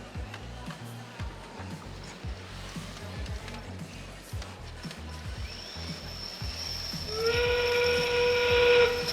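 During a 2017 FRC Steamworks robotics qualification match at a district championship, a steam-whistle-like endgame signal blares over loud arena noise and crowd hubbub. It starts partway through and holds steady and strong to the end.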